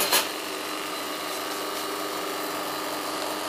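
Steady mechanical whir of a cappuccino coffee machine running as it brews, a brief louder burst at switch-on settling into a constant hum and hiss, close and alone.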